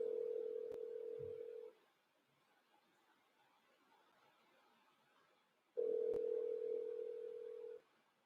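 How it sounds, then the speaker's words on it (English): An outgoing phone call rings out while calling back a real estate lead: two long, steady ring tones separated by a few seconds of quiet line hiss, moderately loud, with no speech. "So I'm going to give her a call back right now."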